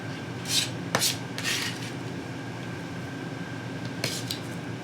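Chopped onion scraped from a cutting board into a bowl, with a few brief clattering and rustling bursts over a steady low kitchen hum, close by and fairly quiet.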